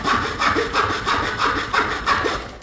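A small saw blade on a Nextool W4 pocket multitool cuts through wood in steady back-and-forth strokes, about eight rasping passes close to the listener with no voices.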